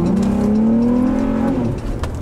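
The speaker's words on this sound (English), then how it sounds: "I believe the Borla exhaust sounds even better than the motor dyne." An Infiniti G35 coupe with a Borla exhaust revs loudly up and then settles, a deep engine note rising in pitch, heard close and alone.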